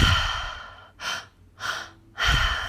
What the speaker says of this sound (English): And I invite you to breathe in deeply.